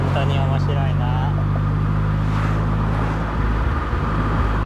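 Honda CR-Z Mugen RZ with a six-speed manual gearbox driving on an unfamiliar road, a steady low engine drone and road hum heard from inside the cabin, with a voice speaking over it early on.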